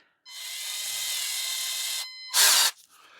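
Power drill boring into a cast iron cylinder of a Stuart Turner generator, a loud steady whine running for about two seconds, then a short pause and a sharper, harsher burst as the bit bites again, with no talk.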